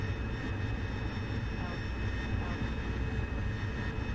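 A VTOL jet in a flight simulator game gives a steady, continuous engine roar with a constant whine on top, holding one even level throughout without pauses.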